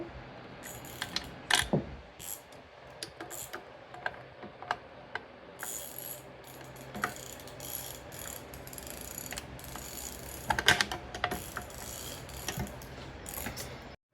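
Headlight bolts are loosened on a Chevrolet Corvette C5 with a ratchet, giving quiet close clicking bursts and scattered metallic ticks and clunks against a low background hum.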